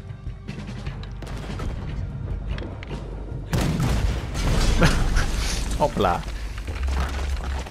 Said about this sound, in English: Usa il cannone.